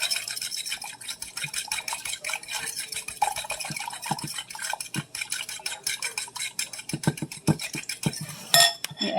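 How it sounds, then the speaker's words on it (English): Eggs seasoned with black pepper are whisked in a bowl, making a fast, steady run of close scraping and ticking strokes against the bowl with a few sharper clinks, all without talk. "mix your eggs until they're a liquid form"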